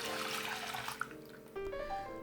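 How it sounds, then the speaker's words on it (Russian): Water poured into a pot holding oat flakes, a steady splashing and trickling stream that shifts pitch as the pot fills, close and fairly quiet with no talk. "заливаем 2 стаканами воды"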